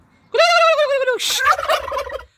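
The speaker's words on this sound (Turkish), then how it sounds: "Bak bu hindiler bile sana gül veriyor Avva." A turkey gobbles loudly and close, one long warbling call followed by a burst of rapid, rattling gobbles.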